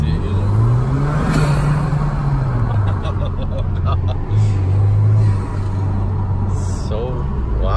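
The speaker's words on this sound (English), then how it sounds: "the turbo sounds crazy" A tuned 2014 Chevy Malibu 2.0T turbo engine pulls hard from inside the car, a steady loud drone with a rising and falling whine, while people talk over it.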